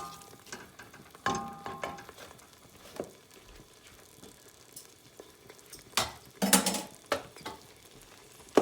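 Seasoned mutton for a Guyanese curry hits a hot pot and sizzles in a loud burst, with scattered clinks and stirring before and after and a second strong hiss of frying later on.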